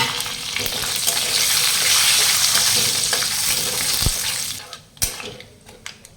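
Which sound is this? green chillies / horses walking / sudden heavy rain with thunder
green chillies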